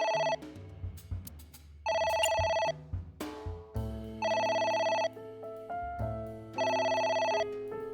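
Telephone in the video game AI: The Somnium Files rings in repeated electronic bursts, each followed by a pause, mixed with the game's background music.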